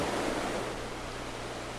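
Waterfall in a Finger Lakes gorge, heard from behind the falling water in a hollowed rock wall: a steady, dense broadband roar with low rumble, constant and loud throughout.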